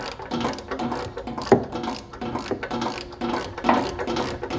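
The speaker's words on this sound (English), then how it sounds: "put the ratchet in when you get close to the end" A hand ratchet clicks in quick, uneven strokes while tightening a bolt during service on a John Deere ZTrak mower. The clicks are close and moderately loud, with a couple of sharper clacks.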